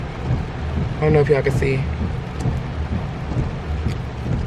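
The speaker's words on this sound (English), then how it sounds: "Y'all can probably hear it's raining really bad right now," Steady heavy rain fills the background in Miami while a person talks over it, the downpour continuing evenly throughout.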